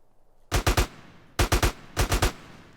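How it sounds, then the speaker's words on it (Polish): AK-47 gunfire in GTA San Andreas Definitive Edition, sounding as three loud, close bursts of three rapid shots each, separated by short pauses. "strzelanie z tego kałacha"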